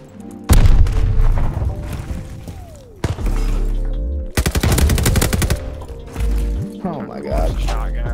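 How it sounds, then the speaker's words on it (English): A grenade explosion and rapid bursts of automatic gunfire in a search and destroy round of a shooter video game, loud and close, with heavy booms and sustained firing separated by brief pauses. "Throwing grenade!"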